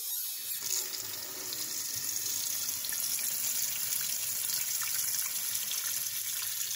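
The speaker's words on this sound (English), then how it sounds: "Over here by the sink, I have it ready. I'm gonna submerge it, like they say, for" A kitchen sink tap runs in a steady, unbroken rush as water fills the basin to submerge an item, sounding close and even for several seconds with no voices.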